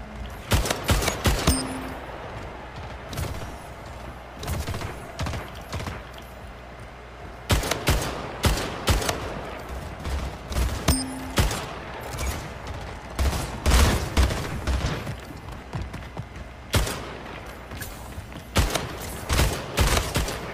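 Burst-fire weapon shots in the video game Splitgate, repeated rapid volleys crackling in clusters with brief pauses between them, loud and close, no speech.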